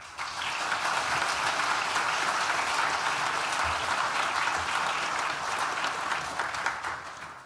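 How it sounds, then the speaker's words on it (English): Sustained audience applause at an NTU Nottingham Business School graduation ceremony in December 2023, clapping dense and steady from start to finish, a large hall crowd honouring university staff. "give a round of applause to NTU staff that have helped us all so much as well"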